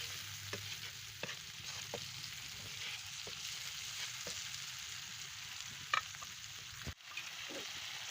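Green chilies and tomatoes cooking in a pan for an egg tikka masala gravy, an even sizzle with periodic spoon scrapes and taps, one louder knock near the end, no voices.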